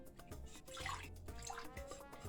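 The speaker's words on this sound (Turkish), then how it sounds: "İlk önce şöyle kalıbımıza su döküyorum. Her tarafını ıslatıyorum ki rahat çıksın." Water poured into a mold for orange pudding to wet its surface, a soft, close splashing and trickling lasting a couple of seconds with faint drips.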